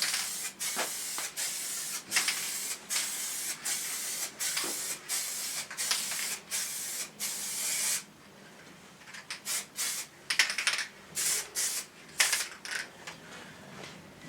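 Liquid wrap is sprayed onto a Triumph Tiger in a garage, a run of short, close hissing bursts with brief gaps for the first eight seconds, then quieter, choppier spurts and pauses.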